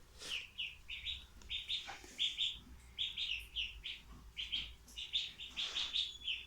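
Ducklings chirping on water: a steady stream of high, thin peeps repeating in quick clusters, fairly faint, with a low background hum and no talking.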